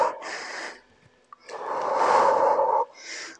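Heavy, forceful breaths rush out during a home HIIT workout, two long loud exhales separated by a brief pause, with a shorter breath at the end, close to the mic.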